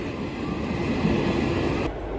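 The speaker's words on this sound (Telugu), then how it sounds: "మొత్తం బ్లూ కలర్ కోచెస్కి వెళ్తుంది, గూడ్స్ ట్రైన్" A goods train with blue coaches rumbles past near Pithapuram railway station, a loud, steady rolling roar with rattling wagons that cuts off abruptly near the end.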